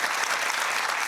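Applause for the police dogs named Sweden's police dogs of the year: a dense, even burst of many hands clapping, loud and continuous, with no voices over it.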